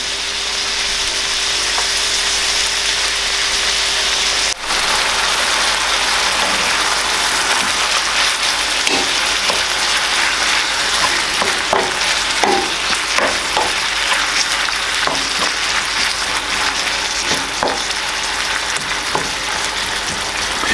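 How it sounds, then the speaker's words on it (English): Meat browns in a pan for spaghetti and meatballs with a steady, close sizzle throughout. Scattered scraping stirs and clicks of a utensil against the pan rise over the frying. "Meat's browning up pretty good, so we're almost done here."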